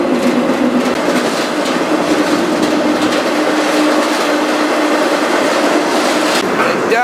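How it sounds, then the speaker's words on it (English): A freight train runs fast over flat swamp country, its wheels and cars producing a loud, steady rumbling roar with a persistent grinding squeal, heard from on board without pause. "This train is going fast."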